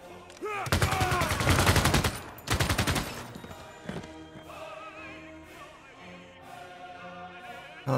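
Machine gun fire from Civilization VI, two dense bursts of rattling gunfire up front, then quieter game sounds, horse whinnies and background music.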